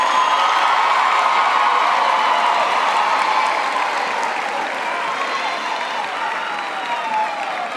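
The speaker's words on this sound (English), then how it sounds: "Please give them an applause." A large graduation audience applauds the lecturers at a university ceremony, steady dense clapping sustained throughout at full strength, easing slightly toward the end.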